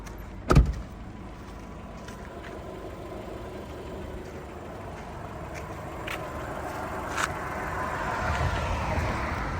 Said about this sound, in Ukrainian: послухайте моторчик